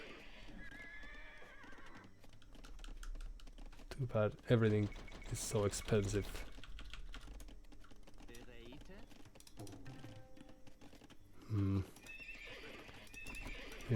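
Horses neigh and hooves clop inside a video game, with whinnies rising in bursts over a steady game soundtrack while people talk throughout.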